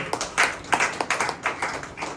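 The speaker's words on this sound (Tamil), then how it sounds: "கைத்தட்டி ஆண்டவர் மகிழ்ச்சி" A church congregation claps their hands in a quick, rhythmic series of sharp claps, close and clear, with no talking over them.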